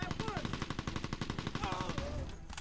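Gunfire in the PlayStation 2 game Mercenaries 2, a rapid, evenly paced burst of automatic shots firing steadily for about two seconds before tailing off, with voices speaking briefly over the shooting.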